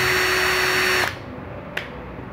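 A Makita DF331DWYE 12V cordless drill driver whirs steadily at close range, driving in, then cuts off after about a second, leaving faint room noise and a brief click.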